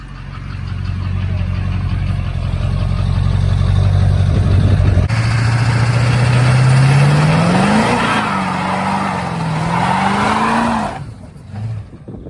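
A Duramax diesel truck engine from a crushed truck idles loudly, then revs up and rises in pitch, wavers at high revs and drops off near the end.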